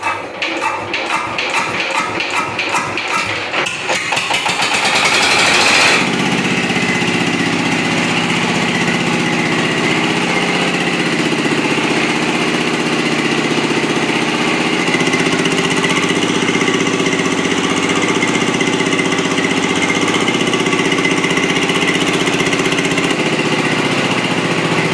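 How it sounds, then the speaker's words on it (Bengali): A 25 HP Chinese diesel engine with excessive oil consumption starts with rapid rhythmic knocking, then settles into a loud, steady, droning run that continues throughout with no talking. "তো এই ইঞ্জিনটি এখন আমরা স্টার্ট করব এবং দেখব এটার কি সমস্যা হয়েছে।"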